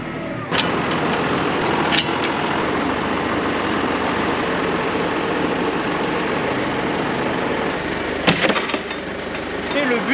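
A farm tractor with a front loader runs at a steady low idle on a field during spring sowing, a continuous rumbling drone close by, with voices talking over it and a few sharp clanks.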